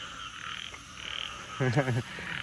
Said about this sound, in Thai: นี่กบเมืองแก่ครับ